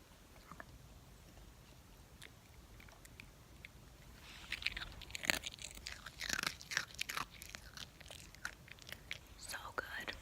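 Close, crisp crunching and chewing of a gingerbread cookie by a dog, intermittent bites growing busier in the second half, recorded quietly and intimately with soft whispering in places.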